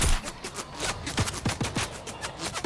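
Rapid bursts of gunfire in Fortnite crackle in an irregular, overlapping fusillade of sharp shots at close to mid distance, with no talking.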